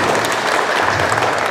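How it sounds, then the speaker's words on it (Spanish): Warm, dense applause from an audience at a 2019 preschool closing ceremony, a steady wash of many hands clapping close by with no break for the whole short burst. "Fuertes y calurosos aplausos."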